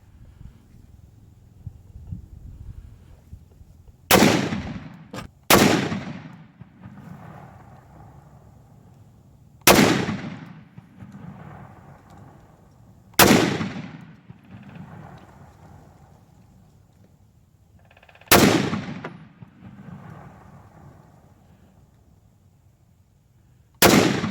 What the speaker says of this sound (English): I think my son is gonna take 8 shots. He's never shot the M1